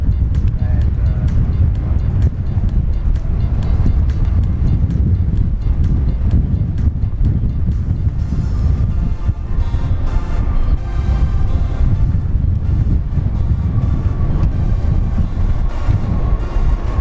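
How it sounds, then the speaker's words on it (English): Strong wind buffets a camera tripod outdoors at an airport plane-spotting spot, making a continuous loud rumbling roar with gusty surges throughout. "Wind pushing the tripod up."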